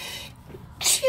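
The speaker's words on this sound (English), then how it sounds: "I did not expect to sneeze" A single sharp sneeze bursts out near the microphone at the end of a short quiet pause.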